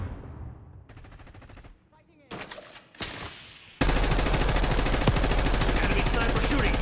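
Enemy sniper fire in Black Ops 6 rings out as sharp separated shots, then erupts into a loud, sustained barrage of rapid gunfire that runs to the end.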